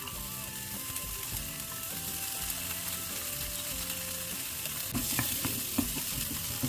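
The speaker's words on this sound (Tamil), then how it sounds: "அந்த பேனில் வந்து இந்த மிக்ஸ் வெஜிடபிள் கொஞ்சம் லைட்டாக ஆக டீப் ஃப்ரையில் லைட் ஃப்ரை பண்ணி எடுப்போம்." Mixed vegetables with capsicum and onion are lightly fried in oil in a pan for homemade pizza, with a steady, dense sizzle throughout and a few scraping stirs near the end.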